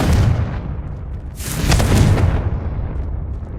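A Confringo blasting spell explodes in Hogwarts Legacy: a loud, sharp burst that flares up near the middle, then rumbles and crackles as it fades out, over a low, steady game background.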